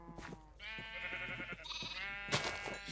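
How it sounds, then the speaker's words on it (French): Sheep in the game Minecraft bleat repeatedly in quick succession, wavering cries close by over a steady in-game background hum, with no talking. "J'ai cru voir un mouton."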